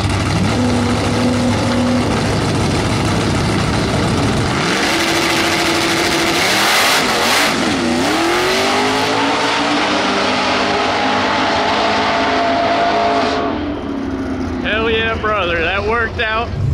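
A turbocharged LS-swapped Honda accelerates hard down a drag strip after an injector cleaning. A loud engine roar sweeps up in pitch through several gear changes and fades to whistly tones as it pulls away, with voices talking over it.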